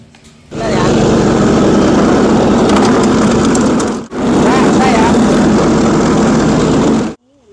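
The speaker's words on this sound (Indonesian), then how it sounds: "sabut kelapa yang telah dibersihkan dan dikeringkan akan dimasukkan ke dalam mesin" Loud continuous machine roar from a machine processing cleaned, dried coconut husk into coir fiber, running steadily, briefly dropping out once, then resuming before stopping abruptly, with faint voices around it.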